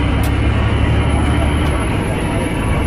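A 2015 Peterbilt 579 truck with an MX-13 engine and an Eaton 10-speed transmission drones loudly and steadily from inside the cab as it pulls along.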